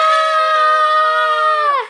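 A child screams during a nursery song about rowing a boat: one loud, high, sustained shriek lasting nearly two seconds, close and alone, falling off at the end.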